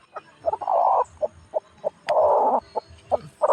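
A hen clucks in short bursts with two longer drawn-out calls, close by and fairly loud, in a house where she went to lay eggs; no talking.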